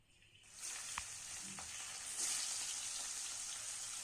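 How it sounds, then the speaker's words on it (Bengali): Marinated catla fish pieces drop into hot mustard oil in a kadai and sizzle loudly, a bright steady hiss swelling after the fish goes in, with a few faint clinks of stirring. "কড়াইতে সর্ষের তেল গরম করে ম্যারিনেট করা কাতলা মাছের টুকরোগুলো দিয়ে দেব।"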